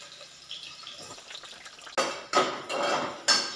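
Whole spices, onion and eggplant for vangi bhat tossed into a pan, a quiet sizzle early on, then several louder bursts of frying hiss and clattering as pieces drop into the hot oil.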